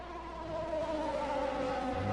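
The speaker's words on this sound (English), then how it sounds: "One of those cars sounds like its engine is sick." Engine whine from an F1 2020 racing game car that sounds sick and unhealthy, a steady buzzing drone with wavering tones that holds for about two seconds at moderate level.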